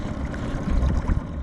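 A low, steady engine rumble with a faint watery wash, continuous and close, from a small Gheenoe LT 10 boat's outboard idling through shallow water.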